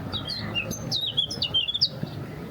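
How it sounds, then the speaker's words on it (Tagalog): Small birds chirp and tweet in quick bright bursts outdoors in the Swiss Alps around Iseltwald and Grindelwald, clear over a soft background rumble, with no talk. "Maririnig mo pa yung mga ibon."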